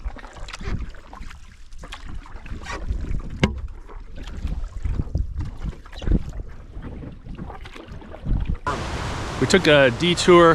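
Paddling a canoe across Gibson Lake toward its north end in the Boundary Waters wilderness, with rhythmic strokes and water splashes mixed with wind noise under steady talk, then a brighter burst of splashing and bird-like chatter near the end.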